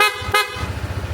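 Two brief horn beeps from a PIAA horn on a Honda ADV 160 motorcycle, close and loud, then the engine keeps idling with a low, pulsing rumble.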